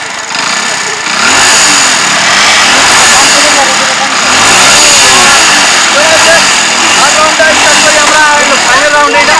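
A Passion Pro Plus and a Honda motorcycle rev their engines hard in a bike tug-of-war challenge, a loud, sustained roar with rising and falling revs while people talk over it.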